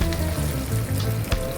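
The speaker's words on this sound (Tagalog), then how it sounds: "Ang ganda na pagka-prito na." Fish frying in oil, a close, steady sizzle with soft crackles and a brief pop near the end, with no talk over it.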